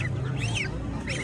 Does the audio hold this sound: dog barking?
no